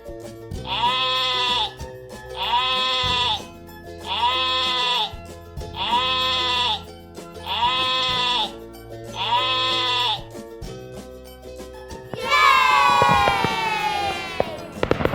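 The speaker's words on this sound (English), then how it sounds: "Sheep." Sheep bleat close by in six evenly spaced, wavering calls, followed by a different, harsher burst of sound at the end.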